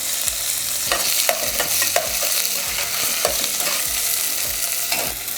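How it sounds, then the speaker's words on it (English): Tomatoes, garlic and ginger fry in a pan for a South Indian sambar, a soft sizzle running beneath repeated close scrapes and clinks of a spoon stirring, with no talking. "I'm going to add the tomatoes, garlic and"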